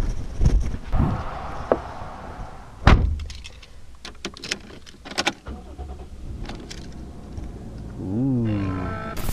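An imported JDM car's door handle clicks and the door thunks open, followed by several sharp clicks and knocks, then a brief whirring motor at the end.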